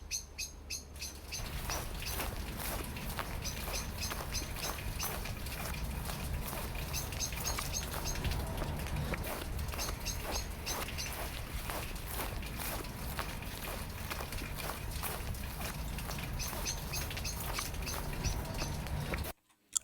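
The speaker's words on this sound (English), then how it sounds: "the birds are coming in and out of the picture" Birds chirp and tweet repeatedly across an outdoor soundscape, bright calls coming in and out over a steady ambient bed at moderate level, ending in a sudden cut.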